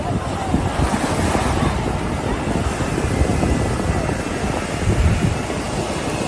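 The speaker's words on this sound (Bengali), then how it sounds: "সমুদ্রের কিন্তু বিশাল ঢেউ আছে" Big sea waves crashing at Puri beach, a continuous loud roar of surf with heavy wind buffeting the microphone.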